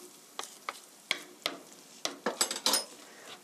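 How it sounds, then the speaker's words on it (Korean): A utensil stirs tofu steak sauce with sesame oil in a pan with the heat turned off, producing a series of sharp scrapes and clinks against the metal at an irregular rhythm over a faint background. "고루 섞어주세요."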